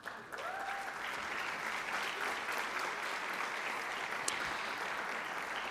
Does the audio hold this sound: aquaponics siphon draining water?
no